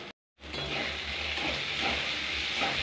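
Spice masala with salt, turmeric and chilli powder sizzles in a pan for an okra and potato curry. A steady, close, hissing fry starts after a brief silent gap and continues without letup, with no voices.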